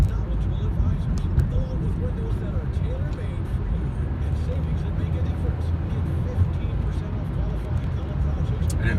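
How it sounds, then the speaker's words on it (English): Steady dense highway traffic on Interstate 10, a continuous loud low rumble of passing cars and trucks with no gaps, running the whole time alone. "I didn't expect there'd be this much traffic right here on I-10."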